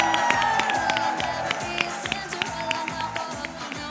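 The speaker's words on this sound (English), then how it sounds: "Let's give them one more big round of applause." A crowd at a Special Olympics event applauds and cheers for the athletes. Dense, continuous clapping with occasional whoops fills a large room, and a rhythmic background pattern repeats beneath it throughout.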